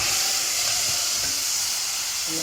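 Meat and onion sauté in a pan as a steady, dense hiss and sizzle, close and continuous throughout, with no talking.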